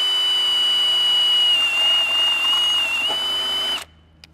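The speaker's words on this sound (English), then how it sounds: "when I drill these pillar holes, I'll rest my arm against the pillar" A power drill whines steadily at a high pitch while boring holes into an Isuzu D-Max's metal pillar for a snorkel, then abruptly stops, leaving near silence.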